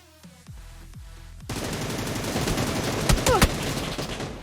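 Gunfire in the mobile shooter New State Mobile: a few scattered shots at first, then a dense, sustained volley of rapid fire with some louder close cracks near the end.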